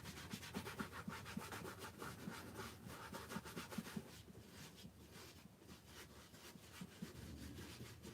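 Steady, continuous rubbing and sanding scrape as paint is worked off a Michael Myers mask, the close strokes running back and forth alone with no talk.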